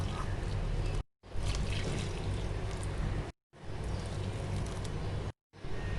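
Water is poured into a large bowl of gram flour (besan) in a steady, rushing stream, broken into several pours by brief silent gaps.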